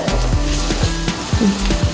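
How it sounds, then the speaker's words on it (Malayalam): Onions sizzling and crackling in hot oil, a loud steady fry with a few sharp pops and stirring scrapes. "ഇതാണ് നമ്മുടെ വറുത്ത് കോരാനുള്ള ഉള്ളി ഇങ്ങനെ സ്റ്റൗവിൽ കിടപ്പുണ്ട്"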